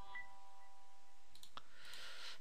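A couple of faint, sharp clicks sound in otherwise quiet room tone, like a computer mouse button pressed nearby.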